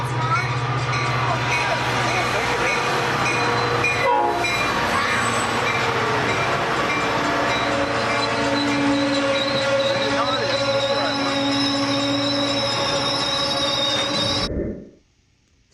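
An Amtrak F40PH model locomotive with DCC sound rumbles steadily and loudly throughout, with sustained horn-like tones in the middle section, before cutting off abruptly near the end.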